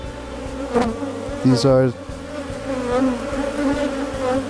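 Honeybees crawl over a brood comb at an open hive in Madagascar, producing a close, continuous buzz with individual bees whining past the microphone, and a person briefly speaking.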